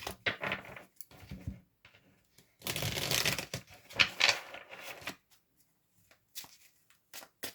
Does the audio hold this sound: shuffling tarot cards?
yes